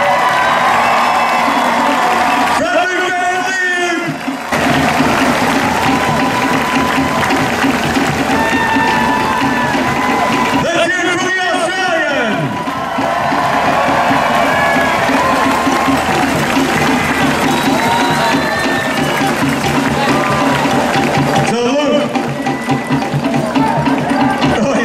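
A Kona race crowd cheers at the triathlon finish with loud, sustained shouting, whoops, whistles and clapping, swelling in waves and close to the listener.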